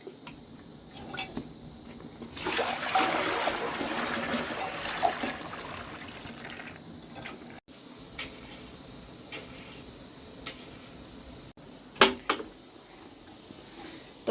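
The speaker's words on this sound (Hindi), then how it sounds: "अभी भैंस पानी पी रही है" Buffalo drinking water in a hillside cowshed: soft wet slurping and trickling that swells into a louder stretch of lapping, then settles into quieter dribbles with a few sharp splashes near the end.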